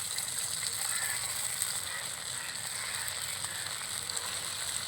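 Pieces of food go into hot tempering oil, producing a continuous, even frying hiss that holds steady throughout at a moderate, close level.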